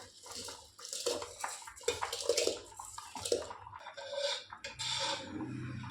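Bubbling, churning water splashes in irregular bursts in a pot boiling for Pongal rice, close by and moderately loud, with short pauses between surges.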